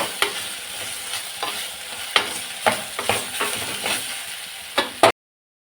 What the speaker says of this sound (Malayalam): കാൽ ടേബിൾ സ്പൂൺ മഞ്ഞൾപ്പൊടിയും ചേർത്തു ചേർത്തിട്ട് ഇളക്കി കൊടുക്കുകയാണ് ചെയ്യുന്നത്